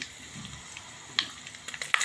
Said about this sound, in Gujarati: મેથી રાઈ ફૂટે છે